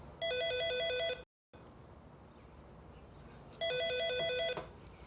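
A telephone rings indoors in two electronic trilling bursts separated by a pause, moderately faint against a quiet room background.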